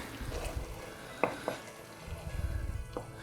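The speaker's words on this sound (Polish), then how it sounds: "Wszystko pięknie mieszamy." Indian-style scrambled eggs stirred in a frying pan, a few scraping knocks of the utensil against the pan over a faint low sizzle, close and quiet, with no voice.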